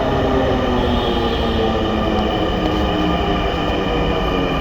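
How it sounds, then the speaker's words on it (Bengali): Dhaka metro rail train arriving at a station, a loud continuous rumble and rolling hiss of wheels on track filling the space, steady throughout with faint high squeal, no talking. "আমরা ঢোকার সাথে সাথে মেট্রো রেল"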